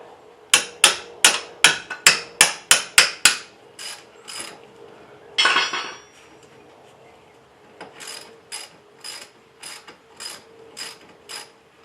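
A hand ratchet works on bolts of a Jeep Liberty during a ball joint replacement, giving two sets of sharp, evenly spaced metallic clicks with a brief scraping clatter between them, loud and close.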